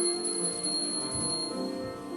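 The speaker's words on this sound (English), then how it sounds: "every time a bell rings, an angel gets his wings" A small bell, given as a Christmas present, rings with a steady, sustained bright tone in a stage play, close and clear, with a faint low rumble beneath it.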